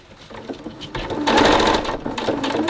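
Sewing machine stitching channels into a homemade fabric face mask, a steady close mechanical whir with rapid needle clatter that speeds up and grows louder partway through.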